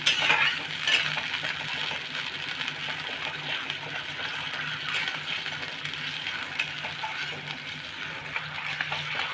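Dhokla batter mixture with salt and sugar is stirred in a pan, giving a soft, continuous swishing and scraping under a steady background hiss, fairly faint throughout.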